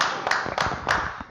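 A few people clap briefly for a dance fitness group, three or four loose bursts of hand claps close by with no talk over them.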